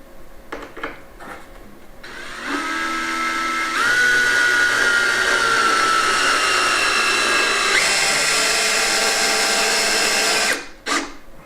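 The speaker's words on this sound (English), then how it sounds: "And pop a couple of screws in." A cordless power drill drives screws into a frame for a solar panel mount at a 150-year-old hen house on a Spanish finca. It whirs in a steady, close whine that rises and falls for several seconds, then stops.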